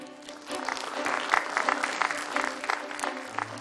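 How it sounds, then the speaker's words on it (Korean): Audience applause at the 2016 Incheon high school debate competition award ceremony, a steady wash of clapping from a hall crowd lasting several seconds, moderately loud, with a low hum near the end. "큰 박수로 환영하겠습니다"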